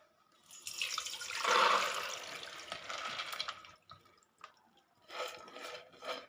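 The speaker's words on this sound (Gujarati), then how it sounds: "આપણે એક ચાણીમાં એનું પાણી કાઢી લઈશું" Water drains from soaked mung beans poured into a strainer: a soft, splashy gush that swells and fades, followed by a few scattered drips and small splashes, all fairly quiet.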